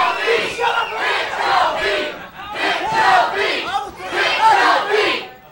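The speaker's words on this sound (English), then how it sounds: "The crowd chanting, hit Joe V!" A loud wrestling crowd chanting in rhythmic unison at an independent pro wrestling event, the massed voices swelling in repeated bursts for several seconds and filling the arena.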